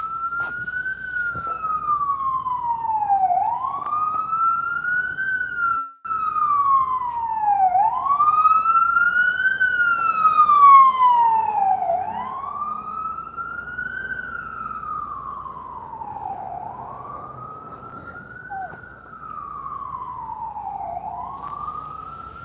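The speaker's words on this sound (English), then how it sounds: "let me go to the side of the road here, let this ambulance pass" An ambulance siren wails in long rising and falling cycles as it approaches and passes on a road, loud and steady throughout.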